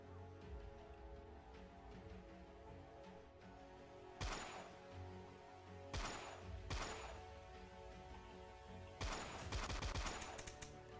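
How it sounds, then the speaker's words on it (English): Gunfire in a Roblox game test, with bullets ricocheting: sharp, loud shots in a few separate bursts, a single crack, then a pair, then a rapid cluster at the end, over a quiet steady hum. "see if we can catch a ricochet from one of these bullets"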